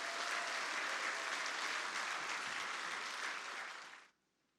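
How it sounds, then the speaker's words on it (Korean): Congregation at a Sunday church service applauds warmly for the choir, orchestra and soloists, a dense, even wash of clapping that holds steady for about four seconds and then stops abruptly into near silence. "오늘 찬양배와 오케스트라 또 우리 솔로 하신 분들과 한번 뜨거운 박수로 격려해 주시기 바랍니다"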